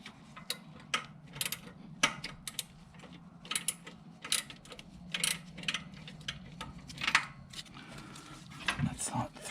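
A torque wrench ratchets as engine flexplate bolts are tightened on a Suburban engine install, quiet repeated clicks in irregular bursts with faint mechanical clatter and people talking low in the background.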